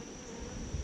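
Bees buzz close by at an open beehive during a mated queen introduction, a continuous dense hum lasting under a second with no voices.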